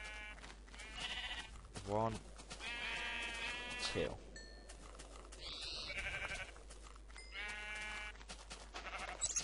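Sheep bleat repeatedly in Minecraft Xbox 360 Edition, several short wavering cries at close range, quiet overall, with someone talking intermittently between the calls.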